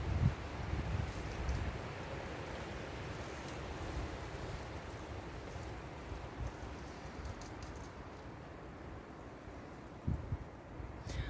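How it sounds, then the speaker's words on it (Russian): Strong wind rushes through a young tree in a steady, roaring outdoor wash, with slightly stronger gusts near the start and again toward the end. "Жуткий ветер."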